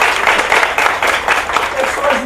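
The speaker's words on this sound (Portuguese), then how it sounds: "Palmas pra vocês." An audience at an employability lecture applauds, a brief burst of dense clapping that carries on under voices.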